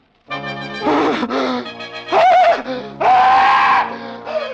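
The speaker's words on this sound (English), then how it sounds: "The scream came at last, for Jafe Morner had seen the devil." A voice in a 1949 CBS radio drama lets out long, loud, shrill screams in several drawn-out bursts, rising and wavering.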